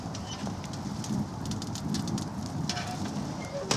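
A wood fire burns hot inside a LiteOutdoors titanium wood stove outdoors in snowy, windy cold, giving a steady crackling roar with scattered sharp pops throughout.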